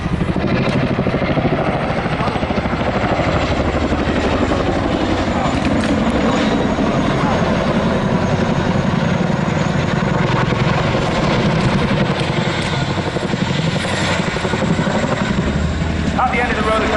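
Chinook helicopter in a flying display at Wings & Wheels, a loud continuous rotor thud and engine roar throughout, with a commentator talking over it.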